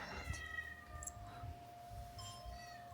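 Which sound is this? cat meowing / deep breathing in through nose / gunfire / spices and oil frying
cat meowing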